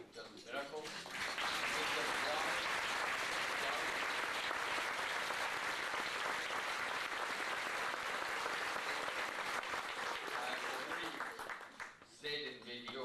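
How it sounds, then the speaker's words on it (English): A large audience at a RESULTS Houston benefit breaks into long, dense applause for its volunteers, swelling quickly and holding steady for over ten seconds before thinning out near the end. "can I propose a big applause for results,"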